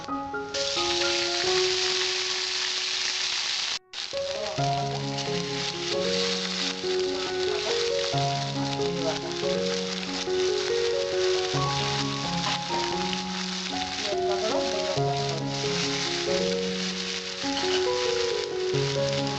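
Garlic and ginger paste sizzles in a frying pan while a Bengali prawn malaikari is cooked, giving a steady bright hiss under continuous background music.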